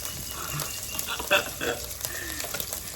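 An egg sizzles and crackles in a hot pan, a soft continuous frying hiss with small pops, close by.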